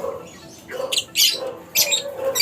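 Pet birds squawk and chirp in short, loud bursts, close by, with a couple of sharp high calls standing out over a faint background hum.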